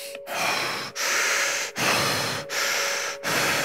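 Deep, fast, rasping breaths from a meditation breathing exercise, about five rough hissing inhale-exhale cycles in steady rhythm, close and loud, each separated by a brief catch.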